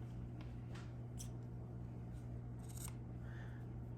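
Scissors trim the yarn ends of a crochet wallet with a few crisp snips over a steady low hum in the room.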